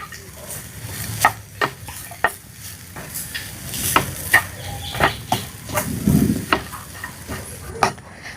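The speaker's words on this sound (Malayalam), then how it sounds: "ഒന്നും കൂടി നമ്മൾ പഴം ഈ നാളികേരത്തിൻ്റെ മിക്സൊക്കെ കൂടിയിട്ട് ഒന്നും കൂടി നന്നായിട്ടൊന്ന് ഇളക്കി കൊടുക്കും" A banana and coconut filling is stirred in a pan, with repeated scraping strokes and a light sizzle at an uneven rhythm, close and clear, with no voices.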